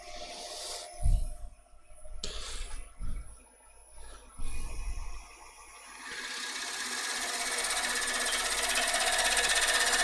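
A sharp gouge cutting an unknown wood species on a lathe, with intermittent scraping bursts at first, then a steady, louder continuous cutting whir that builds toward the end; no speech.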